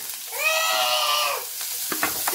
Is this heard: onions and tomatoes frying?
yes